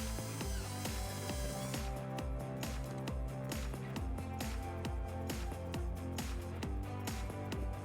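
A screw driven to mount a trailer wiring bracket on the rear bumper of a 2010 Hyundai Sonata, a faint steady ratcheting buzz of the driver with rapid clicking throughout.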